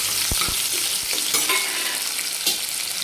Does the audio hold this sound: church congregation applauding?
no